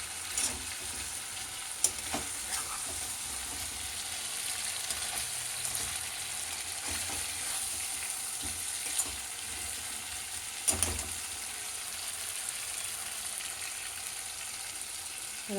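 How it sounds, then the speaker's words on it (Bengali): Native chicken meat frying and being stirred in a pan, a steady soft sizzle throughout with occasional scraping clicks of the spoon, no talking. "দেশি মুরগির মাংস খুব ভালোভাবে কষা হয়ে গেছে"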